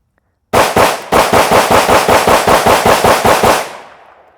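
Fifteen rounds fired in quick succession from a Glock 19 pistol, a fast, even string of loud, close gunshots after a brief pause following the first two, ending with a fading echo.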